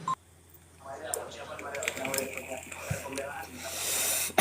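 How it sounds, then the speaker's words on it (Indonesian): A telephone rings with electronic call tones during a live broadcast, faint at first, then rising, with a brief louder tone at the very end. "Bentar ada telepon."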